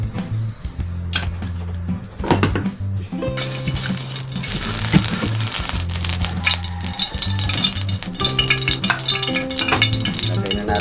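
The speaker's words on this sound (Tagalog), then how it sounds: "nagpainit na po tayo ng kawali natin sa maglagay na po tayo ng mantika" Oil heats and fries in a skillet for Visayan-style adobong pusit (squid adobo). A steady, moderately loud sizzle builds after the first few seconds and runs continuously over background music, with no talking.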